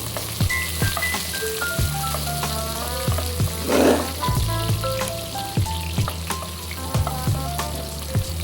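Chopped onions fry in a pan for a chicken curry, a steady close sizzle with occasional stirring scrapes and a brief louder burst of crackle midway.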